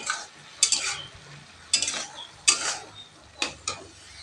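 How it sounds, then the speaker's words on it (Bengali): Chopped garlic and green chilli fry in a pan with a soft sizzle beneath it, while a spatula scrapes and stirs in several distinct strokes. "দিয়ে দিচ্ছি রসুন কুচি আর কাঁচা লঙ্কা।"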